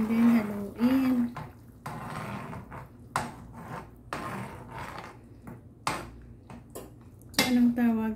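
A utensil stirs an egg into fish soup in a pot, making light clinks and scrapes against the pot in an irregular rhythm. A voice talks at the start and end.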